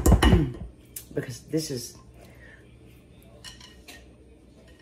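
Kitchen utensils and a spatula clink and rattle as they are fetched while cooking, a few close metallic knocks and scrapes at the start under brief talk, then quieter faint clatter.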